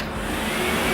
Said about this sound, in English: As you can hear, this is a low volume air dryer.